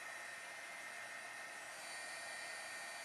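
A handheld dryer blows a continuous, even whoosh up close, drying a watercolor stencil painting for cardmaking.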